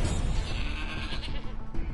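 Goat bleating in the video game Wasteland 3, one drawn-out wavering bleat, close and clear, with no talk over it.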